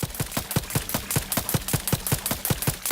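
Rapid enemy gunfire in the game Outer Worlds 2, a steady stream of sharp, evenly spaced shots, close and loud, running without pause and with no voices over it.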